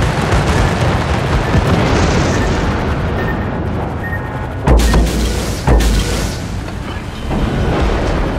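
Torpedoes strike a British warship in a naval video game, producing heavy, loud booming explosions over a constant roar of water and battle, with two distinct deep blasts about a second apart.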